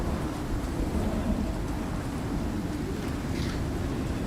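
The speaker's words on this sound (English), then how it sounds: "It's raining." Steady rain patters in the survival video game Icarus, with a low thunder rumble beneath it, moderately quiet and continuous, with no voices.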